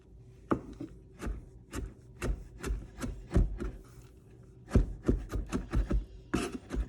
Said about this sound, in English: I'm just gonna cut this into thin little strips, and then just give this a good little mince.